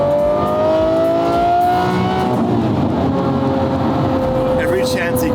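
A Lamborghini Murcielago engine revs loudly and close, its pitch climbing and sliding, while people talk over the roar.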